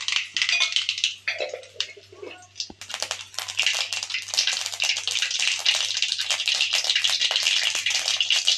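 Mustard seeds hit hot oil in a pan with a quick crackle, then splutter into a dense, continuous popping and hiss that stays close and steady.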